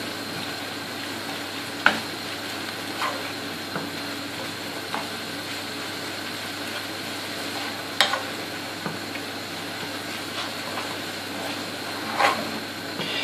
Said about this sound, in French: Je fais revenir le tout, donc ça prend déjà une couleur un tout petit peu caramélisée.